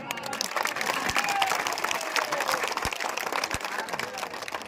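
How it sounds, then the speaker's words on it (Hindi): Crowd clapping at an outdoor election rally, a continuous patter of many hands with a few sharp thumps, mixed with crowd noise and some talk. "ताली बड़ा कमजोर बजत रहा"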